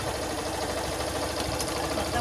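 A small, economical motorcycle's engine idles steadily and close by, a continuous low rumble running through the whole stretch with faint background murmur.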